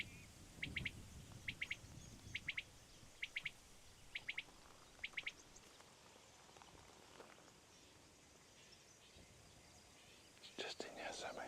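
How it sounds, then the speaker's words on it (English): A common quail calls from a cereal field with six crisp three-note phrases spaced evenly about a second apart, followed by a quiet stretch and faint murmuring. "There's a common quail in here somewhere."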